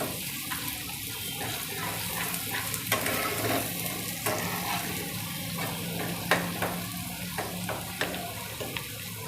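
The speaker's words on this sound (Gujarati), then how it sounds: "એ વચ્ચે એને આમ હલાવતું રહેવાનું એટલે બધી બાજુથી સરસ શેકાઈ જાય" Garlic and mango pickle roasting in oil, stirred now and then, giving a steady sizzle with repeated scraping clicks from the spoon against the pan, close and moderately loud, no talking.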